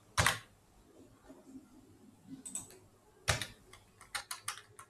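Code is typed on a computer keyboard in a few quick bursts of crisp keystrokes, with a lone sharp tap first and a short rapid run later, close and quiet with no talking.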